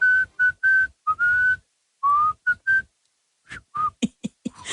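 A person whistles a tune in a series of clear, sustained pitched notes with short breaks, followed by a few shorter, breathier whistled bursts near the end.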